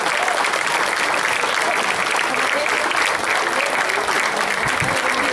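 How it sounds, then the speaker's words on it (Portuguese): Dense, sustained audience applause fills the space at a folklore festival in Santa Eulália, loud and even from start to finish with no voices over it. "eu gostava de uma salva de palmas para as cozinheiras"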